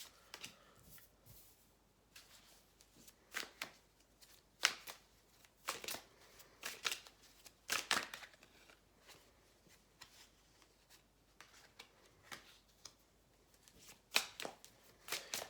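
Tarot cards are shuffled and dealt out on a table, giving crisp riffling and slapping bursts in irregular clusters, close and fairly quiet, with no one talking.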